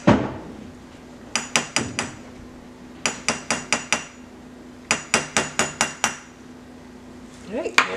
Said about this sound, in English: and then you're just tapping the side here